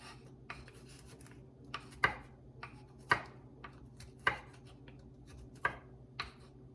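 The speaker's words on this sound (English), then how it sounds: "doing a great job chopping up the garlic" A knife chops garlic on a cutting board in a home kitchen while making lasagna, several sharp close taps spaced irregularly over faint background hum, with no talk.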